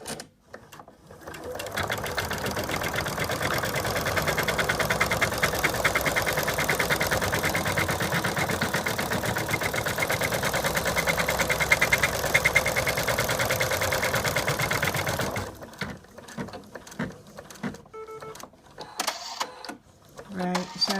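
Embroidery machine stitching a piece of fabric in the hoop, a fast, even mechanical whir of needle strokes running steadily for about fifteen seconds, then stopping into quiet handling noises.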